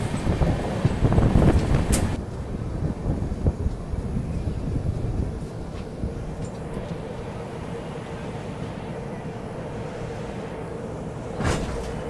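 An Indian Railways AC Duronto express, Mumbai to Howrah, rumbling along at speed with a steady broadband roar that starts louder and then settles to a constant drone, with a brief high hiss near the end.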